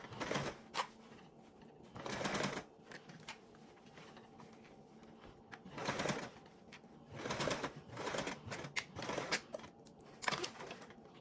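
A sewing machine runs in short bursts, stitching the opening of a small fabric charm closed with a narrow seam, each run of rapid needle clatter separated by quiet pauses.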